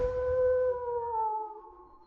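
A dog lets out a single long, tonal howl at close range, steady and then gently falling in pitch before trailing off, wolf- or husky-like in character, with a low rumble underneath.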